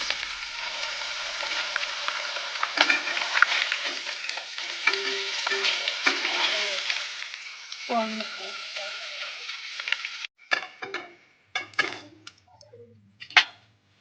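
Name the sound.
fish frying and sizzling in oil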